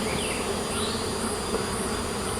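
Honeybees buzz in a steady, dense drone around an open hive during an inspection, close and continuous with no talk.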